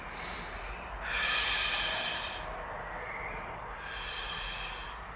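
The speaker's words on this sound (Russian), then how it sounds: "Я специально так дышу громко, чтобы вы поняли, что надо на выдохе выдыхать" Loud, deliberate exhaling breaths during a self-massage exercise for headache relief: two long, close, hissing breaths out, the first stronger, with no speech.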